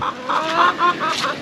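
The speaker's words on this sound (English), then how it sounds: "The chickens are wading water." Several chickens cluck in a steady run of short, repeated calls at close range while wading through floodwater around a farmhouse after heavy rain; no one speaks.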